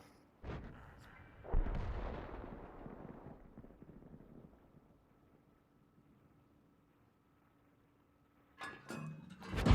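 Cannon fire from a Type 4 Heavy tank in a tank video game: a sharp blast, another heavier boom that rumbles and decays, then a steady engine hum before more shots burst out at the end.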